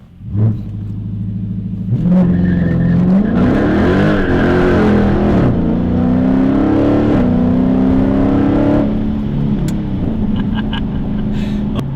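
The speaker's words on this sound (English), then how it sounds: "So you hit the launch button, press brake, and quickly apply full throttle." A 2021 Dodge Challenger Scat Pack T/A launches at full throttle: the engine idles briefly, then roars loudly as it revs and pulls hard, rising through gears in a sustained, close, powerful growl.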